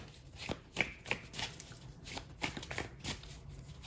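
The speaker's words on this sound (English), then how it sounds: "I'm just giving this a quick shuffle." Tarot cards are shuffled by hand in a quiet room, giving a run of soft riffling bursts and taps in an uneven rhythm, close and fairly faint, with no talking.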